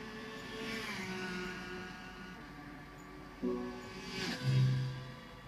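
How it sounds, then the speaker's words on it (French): A Ferrari engine in the racing game Gran Turismo 6, a moderate humming drone with shifting pitch, rising into louder revs and a swell near the end. "Joli bruit, belle Ferrari, joli bruit."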